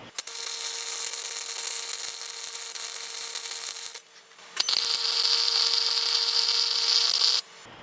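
Tack welding on a homemade exhaust test pipe: two loud, close bursts of harsh crackling hiss, about four and three seconds long, split by a short quiet pause.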